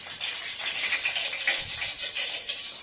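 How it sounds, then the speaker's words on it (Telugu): Hot oil spluttering in a pan before eggs go in, a continuous hissing sizzle with small pops, steady and close. "అమ్మో చిట్టుతుంది. అంటే ఇది వేడైపోయింది."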